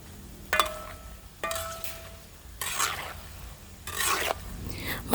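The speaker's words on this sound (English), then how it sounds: "Allow the plantain fry effectively until it is crunchy." Plantain chips frying in vegetable oil, with bursts of sizzling and stirring scrapes in four distinct episodes between quieter stretches, close and moderately loud.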